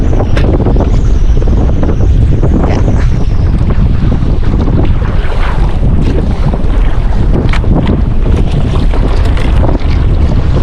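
Loud, constant wind buffeting a microphone aboard a moving fishing boat, a dense roar with water rushing and splashing underneath, no speech.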